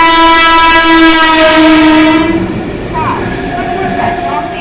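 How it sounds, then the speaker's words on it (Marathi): A through train passes an Indian railway platform, sounding a loud sustained horn for about two seconds before a rumbling rush of carriages carries on. "Platform number 4, सबसेक्टर 4 नंबर प्लेटफॉर्म से थ्रू ट्रेन गुजरेगी"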